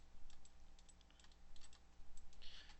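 Keys on a computer keyboard click in scattered taps and short bursts, close and crisp. They sit over a faint steady electrical hum, and no one speaks.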